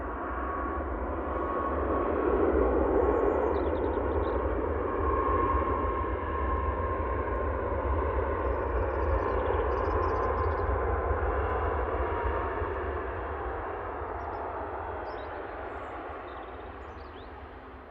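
A Ryanair Boeing 737 MAX 8 at Manchester Airport gives a steady, broad jet roar that holds loud for most of the stretch and then slowly fades, with no voices over it.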